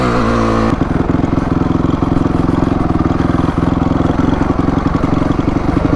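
A dirt bike ridden on trails blares loudly and close, its engine a rapid clattering drone that shifts pitch briefly at the start, then holds hard and steady.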